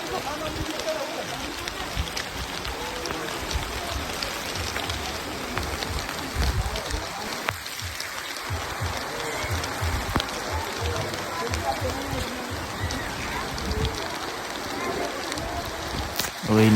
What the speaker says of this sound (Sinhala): ටිකක් හරි එච්චත්ති වහින්න ගත්තා.